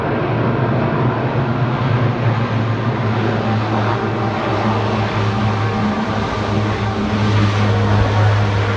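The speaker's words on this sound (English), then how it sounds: "The crew of Rhode 1 has just demonstrated the tactical assault landing capability of the C-130J." A Lockheed C-130J transport aircraft lands during a tactical assault demonstration at the 2017 Rhode Island airshow. A loud, steady turboprop drone with a low propeller hum fills the whole stretch, and no one speaks.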